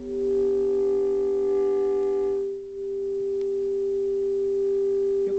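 A steady pure 430 Hz sine tone from a Wien-Robinson bridge hums continuously, dipping briefly near the middle before returning at full strength as a potentiometer is turned, clean and alone.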